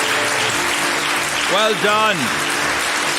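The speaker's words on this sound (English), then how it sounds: "They all deserve a round of applause today" A debate competition audience claps for sponsors and partners, a steady wash of applause running underneath a voice that speaks briefly in the middle.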